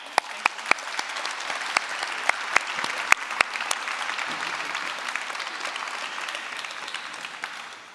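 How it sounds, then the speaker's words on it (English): Audience at a film industry pitch session in Karlovy Vary applauds the presented projects, steady clapping with sharp individual claps standing out close by, lasting the whole stretch and easing off at the end. "So just another round of applause for our first two projects"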